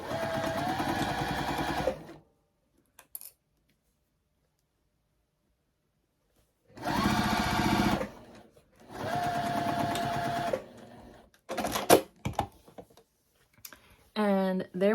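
A sewing machine back stitches a quilted zipper pouch in two or three short buzzing bursts of a couple of seconds each, separated by silence, close and loud, with brief clicks and a short burst of talk near the end.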